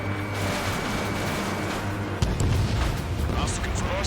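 Bombs detonate during a strategic bombing run in the Ace Combat 7: Skies Unknown flight game, a dense, continuous low rumble that surges into a heavier, closer burst of blasts about halfway through.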